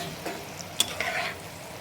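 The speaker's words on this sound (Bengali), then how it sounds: "চিকেনটা আমি তেলের মধ্যে দিয়ে দিচ্ছি এখন আমি এটাকে ভালো করে তেলের সঙ্গে রান্না করে নিই" Spice-marinated chicken frying in hot oil in a pan, a steady sizzle with a few sharp scrapes and clinks of stirring, close and fairly loud with no talk.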